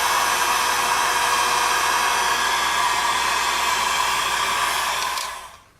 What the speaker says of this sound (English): I'm going to try to smooth this out with my heat gun a little bit, just to get the top a little bit better.